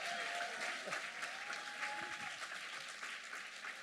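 Church hall audience applauding the Lord, steady dense clapping with some cheering, fairly distant and faint, sustained throughout without talk.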